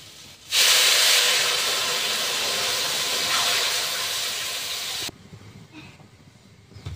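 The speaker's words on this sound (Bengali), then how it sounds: "কচু কষা করা হয়ে গিয়েছে, এবার জল ঢেলে দেবো।" Water poured into a hot pan of fried taro erupts in a loud, sudden steam hiss that holds steady for about four and a half seconds, then cuts off abruptly to quiet background clatter.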